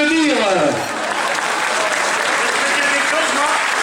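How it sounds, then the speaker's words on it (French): Audience applause at a French stage show with a fakir act, a dense, steady wash of clapping heard up close, with a voice speaking over the start. "on peut l'applaudir"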